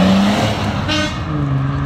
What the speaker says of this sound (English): Volvo is so loud